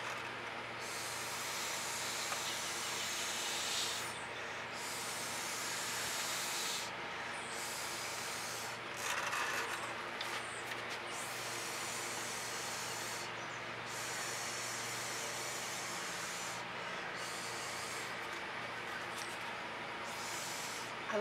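Someone blows air across poured fluid acrylic paint to push it over the edge of a canvas, giving repeated steady breathy hisses separated by brief pauses. The sound is close and fairly quiet, with no speech.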